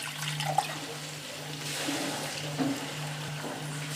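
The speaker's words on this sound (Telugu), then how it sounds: "కొద్ది వాటర్ వేసుకుందాం." Water is poured into a pan of frying brinjal curry, a soft, steady liquid rush over a low background hum, with no voices.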